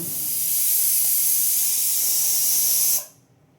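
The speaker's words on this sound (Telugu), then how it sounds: "పప్పు అయితే విజులు వచ్చేసింది" Pressure cooker whistle hissing out steam while dal cooks on the stove: a loud, steady high-pitched hiss that holds for about three seconds, then cuts off abruptly into quiet kitchen ambience.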